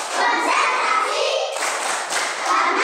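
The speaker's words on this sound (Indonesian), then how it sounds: "Tepuk konsentrasi." Children performing the 'tepuk konsentrasi' clapping routine in a classroom, loud dense group clapping that runs continuously and close, with children's voices mixed in.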